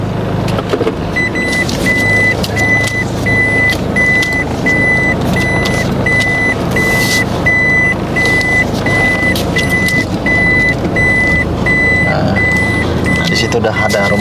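Steady reversing beeps repeat at an even pulse as a car backs into a parking spot outside a house, with engine rumble and traffic noise underneath and people talking over it.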